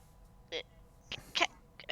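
A shivering person, still wrapped in a blanket, sneezes several times in quick succession: short, sharp bursts that are close and fairly soft.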